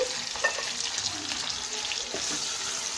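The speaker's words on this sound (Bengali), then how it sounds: "পেঁয়াজটা আমি হালকা বেরেস্তার মতো করে ভেজে নেব।" Onions fry in hot oil with bay leaf, cardamom and cinnamon, giving a close, steady sizzle with light stirring scrapes throughout.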